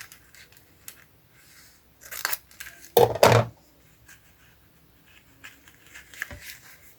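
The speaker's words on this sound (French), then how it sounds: "il faut que je coupe le petit point blanc là" Scissors snip a small white point off a recycled envelope project, giving a couple of short, crisp cuts in the middle of an otherwise quiet stretch with faint handling noises.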